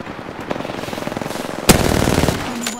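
Rapid automatic gunfire in an online battle royale shooter rattles out in a fast, even burst, then a louder, sharper string of shots follows, close and dominant with no talk over it.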